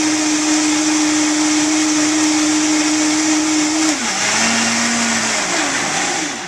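A Vitamix blender runs loud and steady while blending a smoothie, its motor whine holding one pitch, then dropping and wavering as the speed is brought down near the end.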